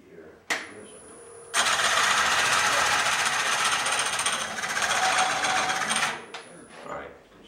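A Oneway coring system cuts into a wood blank on a lathe, giving a loud, steady grinding roar that starts abruptly, holds for about four and a half seconds, then cuts off, with brief knocks before and after.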